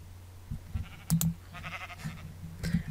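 Video game sheep bleat in short, repeated calls from a Minecraft-style lucky block game, fairly quiet, with a few sharp clicks and game noises in between.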